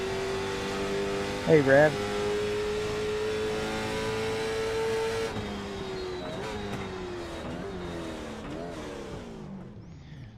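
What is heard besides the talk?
NASCAR race car engine at Homestead-Miami, racing simulator video game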